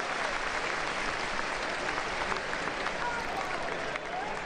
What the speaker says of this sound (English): It's a nice ovation from the crowd